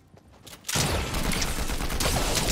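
Dense, rapid gunfire sprays in Fortnite, bursting in loud and close after a quieter moment and continuing as a steady, unbroken barrage.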